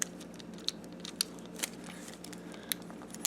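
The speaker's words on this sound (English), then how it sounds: "then you want to push back in these side pieces so they should click into place" Plastic side pieces of a Transformers Masterpiece Tracks toy pushed back so they click into place, several small sharp clicks scattered over faint handling noise, close and quiet.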